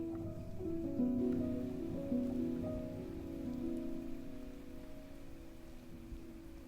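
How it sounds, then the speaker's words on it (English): Heavy rain pours down on a dark, cloudy day, a steady wash of falling water with a low hum underneath, loudest early and easing slightly toward the end. "It's raining so much"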